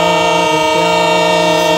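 A train sounds its horn as it approaches, a loud sustained tonal blast with a slight pitch dip midway, held steady throughout with no voices.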